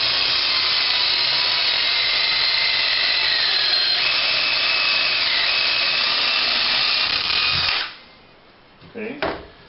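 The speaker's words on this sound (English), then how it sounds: "now we're going to take the drill" A power drill bores a hole into a wooden cabinet with a loud, steady whine for about eight seconds, then stops abruptly. A few faint handling sounds follow.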